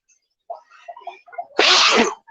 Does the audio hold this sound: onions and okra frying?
no